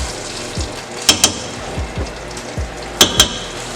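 Canned chickpeas being stirred into a pot of Moroccan chickpea soup, a spoon scraping and knocking against the pot in irregular strokes with a few sharper clinks, close and fairly loud over a soft background hiss.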